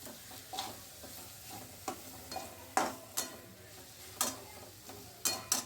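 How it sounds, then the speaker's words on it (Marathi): Spices are sautéed with spring onion in a pan for Khandeshi eggplant bharit, giving a low, steady sizzle broken by repeated sharp stirring scrapes at an irregular rhythm. "यानंतर आपण यामध्ये मसाले ॲड करणार आहोत आणि ते पण छान असे परतून घेणार आहोत"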